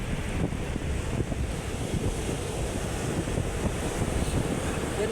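Sea waves rolling in on a fairly rough day, with steady wind buffeting the microphone; a continuous, loud wash of surf close by with no talking.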